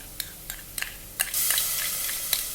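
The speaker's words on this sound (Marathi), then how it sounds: "आता आलं लसणाची पेस्ट टाकायची त्याच्यात" Onions and two green chillies frying in a pan as ginger garlic paste goes in for egg biryani: a few sharp spoon clinks on the pan, then a loud, steady hiss of sizzling that holds to the end.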